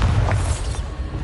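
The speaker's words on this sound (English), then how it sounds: "Bombarda." The Bombarda spell explodes in Hogwarts Legacy as a brief, loud, low booming burst with a rumbling tail.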